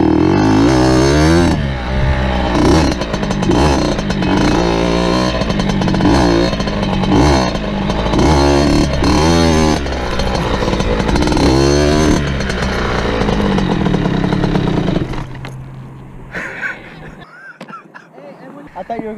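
A dirt bike engine revs loudly and close, with buzzing pitch climbing and falling through repeated throttle blips before cutting out near the end, followed by faint noise.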